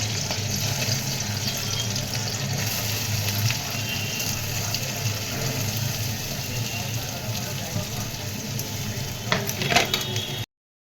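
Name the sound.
potato added and cooking in pan for sabudana khichdi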